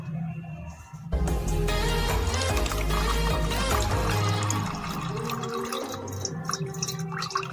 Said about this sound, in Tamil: இன்னும் கொஞ்சம் நம்ம தண்ணி ஊற்றிக்கலாம்.